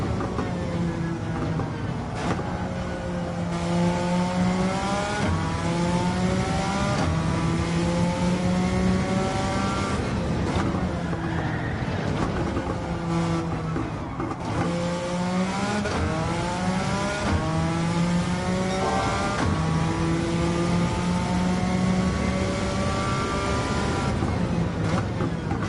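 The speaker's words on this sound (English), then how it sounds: "This definitely feels like a hill climb car." A Suzuki Escudo hill climb race car in Gran Turismo 7 roars continuously at high volume, its engine note climbing through repeated rising revs and dropping on each gearshift, alone with no talking for about 25 seconds.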